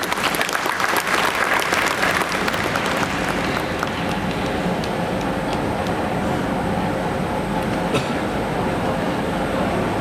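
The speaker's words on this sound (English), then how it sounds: "Let's grace this moment with a huge round of applause." Sustained applause from an audience at an international environment and sustainability summit in Goa, a dense continuous wash of clapping filling the whole stretch with no talk over it.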